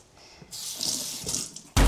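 A kitchen tap runs to wet mint for Moroccan tea, giving about a second of steady splashing water after a soft start, then a sudden loud knock at the end.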